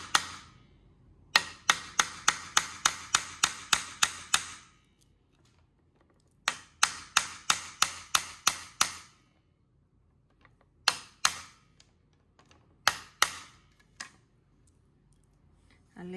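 Nails driven with a hammer into a small, fairly hard wooden ring while making a synthetic rattan khantoke tray: three bursts of rapid, sharp, close knocks, then a few isolated strikes, with quiet gaps between.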